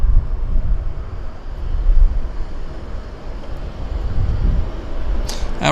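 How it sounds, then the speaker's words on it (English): An Air Canada Flight 7 airliner bound for Hong Kong departs YVR, its jet engines a steady, distant low roar mixed with wind buffeting the microphone. "This is the Air Canada Flight 7. It's going to Hong Kong"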